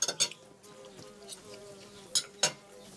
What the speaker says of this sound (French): les mouches se sont invitées à table.